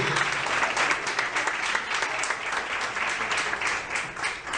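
Steady, enthusiastic applause from a church congregation during a worship service, continuous clapping filling the whole stretch at an even, fairly loud level.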